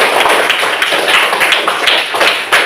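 Children in a classroom clap their hands together in a dense, steady burst of applause for a classmate, close and fairly loud throughout with no talking over it.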